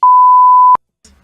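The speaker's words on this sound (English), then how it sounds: "people are gonna just hear the long beep noise" A long, loud, steady censor beep tone sounds alone for under a second, followed by faint low noise.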